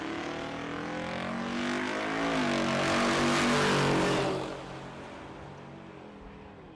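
Drag racing cars, a Camaro and an LS-swapped Volvo wagon with an LSA supercharger, launch and race at Tulsa Raceway Park, their engines rising in pitch through the gears, peaking loud, then fading into the distance.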